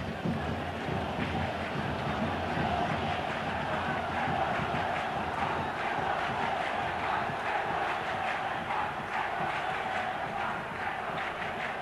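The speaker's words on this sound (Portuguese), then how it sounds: "Torcida da Ponte Preta procura carregar o time aqui em Campinas" Ponte Preta supporters in the stadium in Campinas during a 1981 Brazilian league match against Grêmio, a dense, steady roar of a large crowd, distant and continuous throughout with no breaks.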